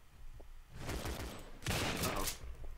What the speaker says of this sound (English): all these bullets flying around